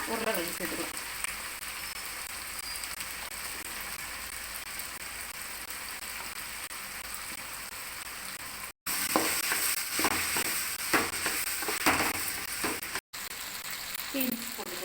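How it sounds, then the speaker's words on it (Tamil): Onions and then potatoes fry in hot oil in a home kitchen pan, a continuous close sizzle with stirring scrapes and crackles; someone speaks over it at points. "எண்ணெய் சூடானாலும் வெங்காயம் போட்டுக்கலாம். வெங்காயம் கொஞ்சம் வதங்கினோன்னா உருளைக்கிழங்கு சேர்த்துக்கலாம்."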